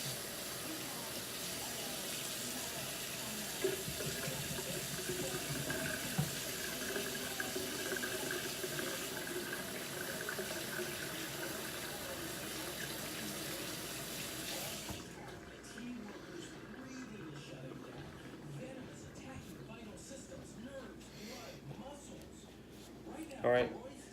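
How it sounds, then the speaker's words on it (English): Tap water runs steadily into a kitchen sink while hands are washed, a loud continuous splashing rush for about fifteen seconds before it shuts off, leaving quieter kitchen sounds. "Wash my hands."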